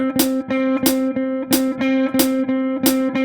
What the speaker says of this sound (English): Let's throw in a metronome here.